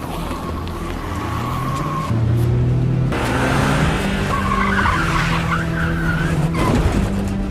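A local resident's car speeds off with skidding, squealing tires in a zombie action film, the engine roaring loud and close over a layered score, with a sharp rise in intensity partway through.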